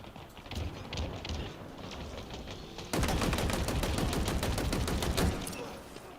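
Rapid gunfire from a weapon in Halo Infinite, a steady run of shots that jumps to a louder, denser burst midway, continuous fire with no talking.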